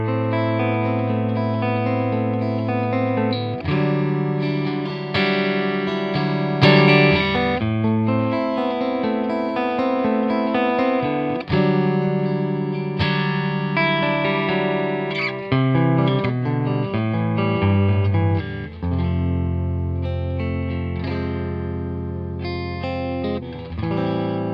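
Clean electric guitar from a Deluxe Stratocaster played through a Fender Deluxe Reverb amplifier, chords and melodic lines ringing with a touch of amp reverb, loud and close, played alone without any voice.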